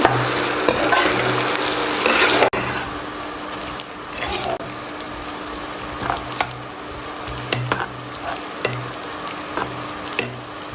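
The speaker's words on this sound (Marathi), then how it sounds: "हा आपल्याला थोडासा लालसर होईपर्यंत भाजून घ्यायचा आहे" Sliced onions fry steadily in hot oil until reddish for a chicken dum biryani. The sizzle is close and continuous, with occasional stirring scrapes and a low hum underneath, and it drops slightly in level after the first couple of seconds.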